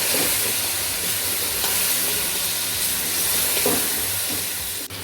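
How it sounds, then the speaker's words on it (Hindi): Cooked chicken fries in masala for yakhni pulao, a loud, dense, steady sizzle with an occasional stir or scrape and no one speaking. "ये इसको चिकन को हमने थोड़ी देर भूना है"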